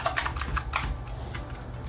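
Rapid typing on a computer keyboard at a command prompt, a quick run of key clicks over a steady low hum.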